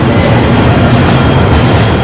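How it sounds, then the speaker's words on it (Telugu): A train pulls into a station platform on the Vizag to Kolkata route, a loud, dense, continuous rumble of rolling carriages and wheels on rail with no talking. "ఫైనలీ వచ్చింది ట్రైన్"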